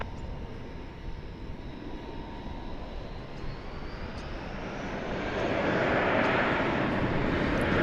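A jet airliner takes off at Dallas/Fort Worth International Airport, a steady distant roar of engines that swells louder toward the end with no talk over it.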